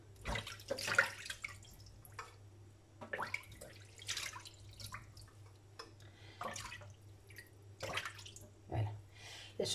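Water dripping and trickling from freshly washed parsley draining in a colander over a sink, a series of irregular close drips and small splashes against a steady low hum.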